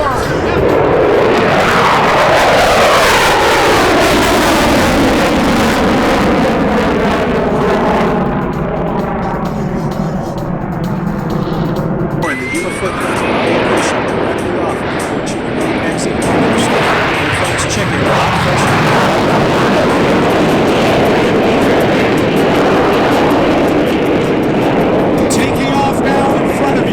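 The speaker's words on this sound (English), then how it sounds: "Here comes the Harrier once again from the right." An AV-8B Harrier jet flies past at the MCAS Yuma airshow, its loud roar rising and sweeping in pitch as it nears and passes, then settling into a rumbling drone, with an announcer talking over it.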